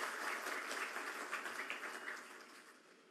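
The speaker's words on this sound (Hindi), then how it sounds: "मैं चाहूँगा आप उनके लिए जोरदार तालियां" Audience applause at an official public event in India: a broad, even wash of many hands clapping at a distance, sustained and then gradually fading out.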